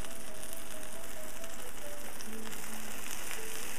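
Fish frying in olive oil in a pan, a steady close crackling sizzle with dense popping that continues evenly throughout.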